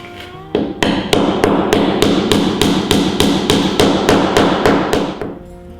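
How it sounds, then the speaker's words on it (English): A hammer drives nails into wooden floor joists again and again in a fast, steady rhythm, loud and close, about a dozen sharp blows in a row. "hammering them back down into the joists well below the surface of the wood"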